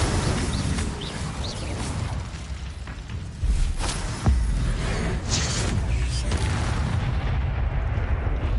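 Incendio fire spell cast in Hogwarts Legacy, a dense roaring burst of flame with deep booming impacts and crackle, loud and continuous through the clip with a sharper blast partway in.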